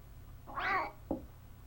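A cat meows once in the SNES horror game Clock Tower, a short rising-and-falling mew followed by a brief second yowl over low game background hum.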